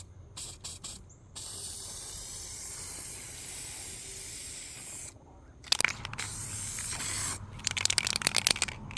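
Spray paint hisses onto a 1987 Chevy squarebody truck fuel tank in a garage in several bursts. There are a few short blasts at the start, a long steady spray in the middle, and then a series of rapid spurts, all close and with no voices.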